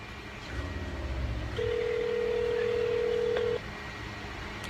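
A single steady telephone keypad tone sounds for about two seconds as zero is pressed on a phone set to speakerphone, standing clear over a low background hum with no talking.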